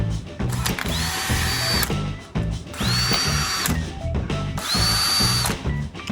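A power drill spins up in three sustained bursts, each a rising whine that holds steady before cutting off, close and loud, while a Stihl BG 86 handheld leaf blower's carburetor is being taken apart.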